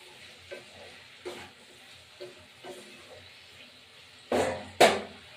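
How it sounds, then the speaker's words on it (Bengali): Tilapia fish curry with drumsticks and poppy seeds being stirred in a pan, several soft scraping strokes spaced about a second apart under a faint sizzle, then two louder, sharper scrapes near the end. "এবার একটু নাড়া দেবে"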